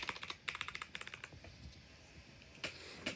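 Typing on a mechanical keyboard fitted with Cherry MX Brown switches, a quick run of soft, close key clacks, then a pause and another burst of keystrokes near the end.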